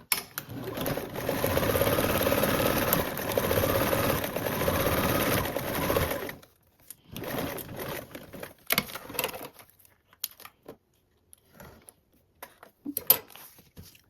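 A sewing machine basts fabric at a 1/8-inch seam allowance with a steady fast mechanical whirr for about six seconds, then gives short stop-start bursts and quiet gaps, close and fairly quiet, with no talking.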